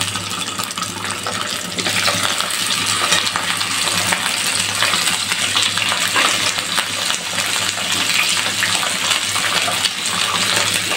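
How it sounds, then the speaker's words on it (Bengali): Poultry chicken wings fry in hot oil in a home kitchen, giving a loud, continuous sizzle and crackle that grows a little fuller after the first couple of seconds, with no talking. "তেলের উপরে আগে ভেজে নেব।"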